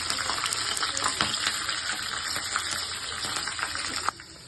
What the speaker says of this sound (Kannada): ಹಸಿಮೆಣಸಿನಕಾಯಿ, ಬ್ಯಾಡಗಿ ಮೆಣಸಿನಕಾಯಿ, ಕರಿಬೇವು ಇಷ್ಟು ಹಾಕೊಂಡು ಸ್ವಲ್ಪ ಅದನ್ನು ಬಾಡಿಸ್ಕೊಳ್ಳೋಣ